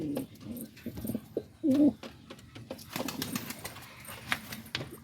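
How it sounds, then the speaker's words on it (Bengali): Pigeons, including Lahori birds, coo softly in a loft while feeding, with short low murmured calls, pecking taps and light wing or body rustles scattered throughout. "কবুতর খাবার খাচ্ছে"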